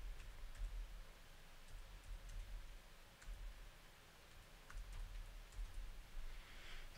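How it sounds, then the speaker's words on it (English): Someone types an IP address on a computer keyboard, with soft, faint, irregular key clicks scattered over quiet room noise. "I'm going to actually type in the IP address of my Zidoo player"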